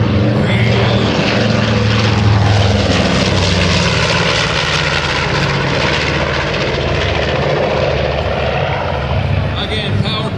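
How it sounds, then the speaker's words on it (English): A B-25 Mitchell bomber with twin R-2600 radial engines roars loudly and continuously overhead at an airshow, a deep throbbing drone with propeller buzz that holds throughout, with a voice faintly audible beneath it. "powered by two R-2600 engines, cranking up more than 1700 horsepower aside on military takeoff power"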